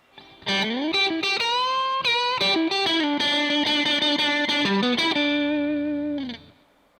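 A distorted electric guitar plays connected licks, sliding and bending notes, then a long sustained note fading out, loud and unaccompanied.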